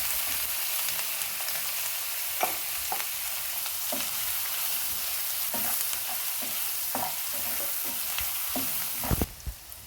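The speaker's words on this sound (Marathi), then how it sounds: "आलं लसूण पेस्ट थोडीशी परतून घेऊया। कांदा घालून कांदा थोडासा परतून घेऊया।" Onion sautéing with ginger-garlic paste in a pan for cheese masala pav, a steady close sizzle with scattered spoon scrapes and taps, louder clatter near the end.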